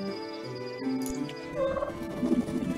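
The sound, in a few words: turkeys gobbling in a video game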